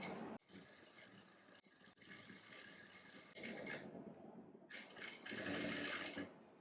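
A sewing machine stitches a panel of an Anarkali churidar in bursts of whirring, with short pauses between runs and louder stretches toward the end, no talk.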